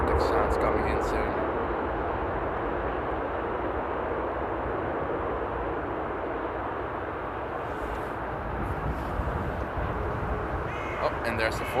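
Wake vortex turbulence after an airliner lands at Amsterdam Airport, a steady rushing, rumbling roar of disturbed air at moderate loudness throughout, like a strong wind, with crackling low rumble and faint background sounds.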